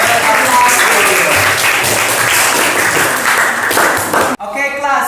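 Students in a class applaud a classmate for a correct answer, a loud, close burst of clapping that cuts off abruptly, followed by a teacher's voice speaking.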